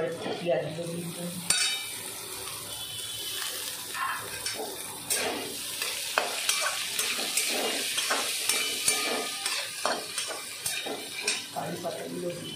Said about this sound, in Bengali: ভাজা ভাজা হলে এবার একটু পেঁয়াজগুলো দিয়ে দিই।